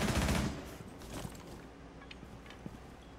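A rapid burst of automatic gunfire in the tactical shooter game Rainbow Six Siege opens the moment loud and close, then gives way to a few faint, scattered shots and clicks.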